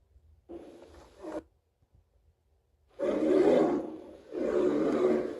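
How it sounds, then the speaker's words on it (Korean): A lion roars in an animal sound quiz: one short growling roar, a pause, then two long, loud roars close together, with no talking. "이렇게 우는 거 사자 아니면 호랑인데 아, 사자로 갑시다"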